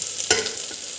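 Rice grains sizzling in hot ghee in a pan, made with ordinary ration rice for Kerala-style ghee rice, with a sharp stirring scrape at one point over a steady frying hiss.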